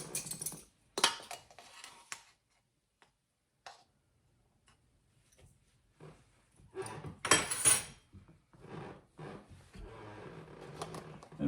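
Metal tablespoon handled while measuring baking powder for flaky scones in a home kitchen: scattered light clicks and ticks of utensil on containers, close and intermittent, with pauses between bursts of handling.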